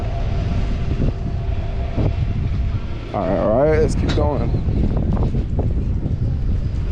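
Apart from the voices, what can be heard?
wind blowing on a San Francisco street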